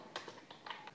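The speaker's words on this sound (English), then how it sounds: "So here I am typing enter the value for" Computer keyboard keys being typed while entering C++ code, a few quiet separate taps spaced through a short, faint moment with no talk.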